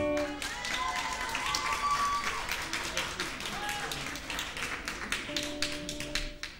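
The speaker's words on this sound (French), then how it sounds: "on peut les applaudir aussi pour ça" An audience at an evening forum event applauds the organisers: dense, steady clapping from a crowd that holds for several seconds, with voices mixed in.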